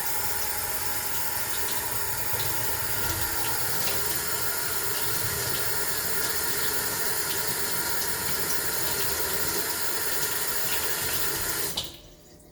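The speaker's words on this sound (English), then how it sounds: "Let me just wash this spoon off." Tap water runs steadily into a kitchen sink as a spoon used for making homemade chocolate is rinsed, with a continuous hiss and splash that cuts off abruptly near the end.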